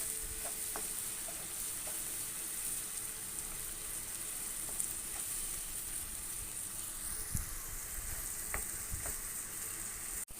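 Onion and ground masala paste sautéing in a pan for spicy chicken curry, a steady close sizzle and crackle running throughout with a few faint scrapes and clicks of stirring.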